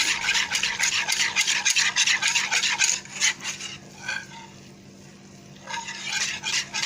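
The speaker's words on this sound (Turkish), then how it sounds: "Şöyle karıştırıyoruz." A spoon scrapes and clinks in a cup of milk and flour, giving quick rhythmic strokes close up that slow and pause briefly partway through before the stirring picks up again.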